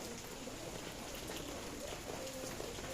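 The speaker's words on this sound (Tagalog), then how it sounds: "Maulan dito guys sa Tanay." Steady, even rain pattering on surfaces in Tanay during a storm, a constant wash of drops at low volume with no voices.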